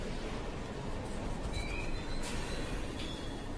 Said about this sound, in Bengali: কিছুক্ষণের মধ্যেই ট্রেনের গতি কমে এলো